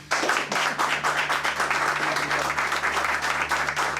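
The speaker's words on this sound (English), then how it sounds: "let's make a thunderous, rounderous SOS applause for County Prosecutor-elect Wesley Bell." Thunderous applause from a rally audience welcoming a county prosecutor-elect to the stage at a voting event: dense, steady clapping from many hands, loud and sustained throughout, with a faint low electrical hum underneath.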